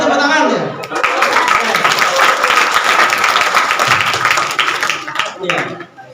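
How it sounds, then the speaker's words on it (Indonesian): Sustained audience applause at an Indonesian talk on love, dense and steady for about five seconds before tapering off at the end. "Terima kasih tepuk tangan ya."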